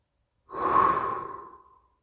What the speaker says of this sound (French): Expire avec la bouche toute ton air.